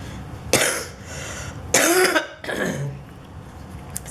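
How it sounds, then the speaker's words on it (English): An adult woman coughs indoors in a few sharp bursts, one short cough followed by a louder, longer hacking fit and a fainter trailing cough, close to the microphone with no other speech. "I keep coughing."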